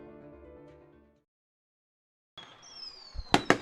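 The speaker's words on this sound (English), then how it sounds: "the homecoming fireworks going off here in Hillsboro, celebrating a homecoming victory for Hillsboro Central Valley" Homecoming fireworks after a high school football victory in Hillsboro, North Dakota: a tonal note fades to silence, then a hiss and whistle build into two sharp, loud bursts near the end.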